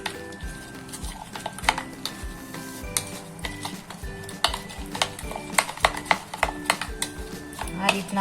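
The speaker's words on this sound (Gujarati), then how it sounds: "આપણે બધું મિક્સ કરી દેવાનું છે" A potato and yogurt mixture being stirred in a pot for dahi batata nu shaak, with a spoon scraping and clicking in quick irregular strokes over soft background music.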